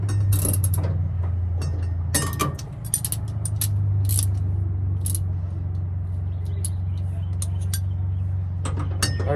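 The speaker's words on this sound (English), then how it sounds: "I really need to get new ratchet" A ratchet clicks in quick bursts while tightening bolts on a Belltech drop kit for an 88-98 Chevy truck, with metallic ticks over a steady low hum.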